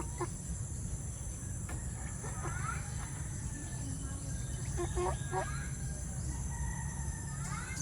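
Chickens in a chicken house in the Philippines, with several short crowing calls and clucks rising over a steady insect drone and low background hum, fairly faint and scattered through the scene.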